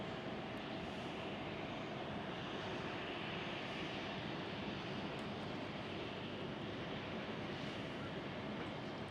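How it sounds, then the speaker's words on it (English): Steady, loud broadband roar of a TUI Embraer E195-E2 jet at Schiphol airport, continuous for the whole stretch with no talk, like a nearby aircraft engine on taxi or takeoff. "Yes, that's for sure an E195E2."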